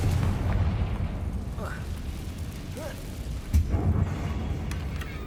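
A Confringo fire spell explodes in the video game Hogwarts Legacy on PS5, a single booming burst midway through over a steady rumbling game background.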